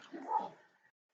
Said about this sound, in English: Sorry for my dog is barking outside.